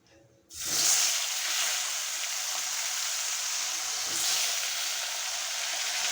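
Potato pieces hitting hot oil with bay leaf and cumin seeds in a pan, a sudden loud sizzle that bursts in after a moment of quiet and holds as a steady, close hiss.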